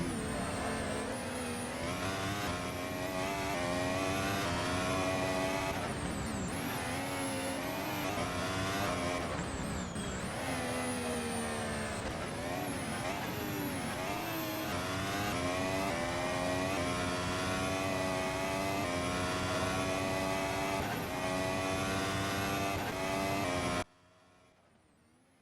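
A race car lapping the circuit at the Dutch Grand Prix holds a steady, loud engine note that rises and falls through gear changes for most of the stretch, then cuts off abruptly near the end.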